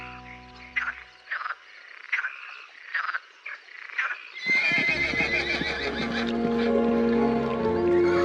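Wild horses of Latea give a series of spaced, shrill neighs and whinnies, answered by close croaking. A dense, loud chorus of calls and a low steady drone then takes over.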